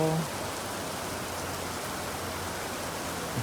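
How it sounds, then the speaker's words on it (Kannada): Steady rain pours down in a dense, even hiss, with no pauses. "ಇವಾಗ ಮಾತ್ರ ನೋಡಿ ಚೆನ್ನಾಗಿ ಮಳೆ ಬರ್ತೈತೆ"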